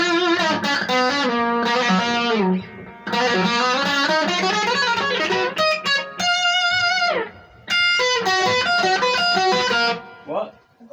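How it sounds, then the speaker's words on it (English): Electric guitar notes and chords through a Marshall MG-15DFX amplifier's reverb ring out with a washy reverb tail, phrases swelling and fading over about ten seconds, loud and close. "That's the reverb that's on it."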